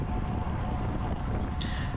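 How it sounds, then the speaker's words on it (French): Headwind rushes past a rider in the peloton of the 2021 Walloon road cycling championship, making a steady, loud, rumbling roar of wind across the microphone with no break. "on comprend qu'ici on a le vent de face"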